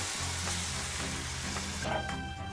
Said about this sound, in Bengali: এবার গরম তেলের মধ্যে ডালটাকে, যেটাকে পেস্ট করে নিয়েছি, সেটাকে ঢেলে এটাকে ভালো করে শুকনো করে নিতে হবে